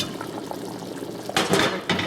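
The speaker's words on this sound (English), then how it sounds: "The soup is boiling." Pot of pasta e fagioli soup boiling on the stove, with steady bubbling and a couple of louder bursts of bubbling and clatter near the end.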